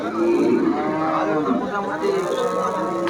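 Cattle mooing loudly and repeatedly, with long low calls overlapping amid the busy murmur of the crowded Kaitla livestock market in Bangladesh.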